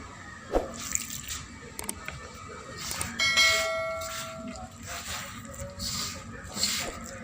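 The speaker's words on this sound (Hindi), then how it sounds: "अब हम थोड़ा थोड़ा पानी डाल के आटा गूंद लेंगे" Water trickles and splashes in short bursts as it is added to wheat flour for kneading paratha dough, with faint clinks of utensils and a quiet voice in the background.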